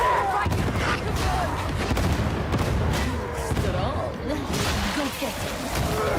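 A grenade blast in Warhammer 40,000 Darktide bursts amid steady rattling gunfire and whooshing combat noise, with voices talking over the dense, continuous battle din.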